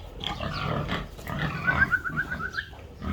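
Pigs grunt and squeal close by as they are driven out of a pen on a farm, a run of short, sharp squeals rising over scuffling and grunting.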